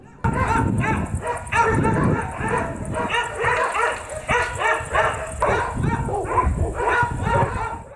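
Many dogs bark and yip continuously at a stray dog holding facility, a dense, overlapping chorus that keeps going through the whole stretch with only brief dips.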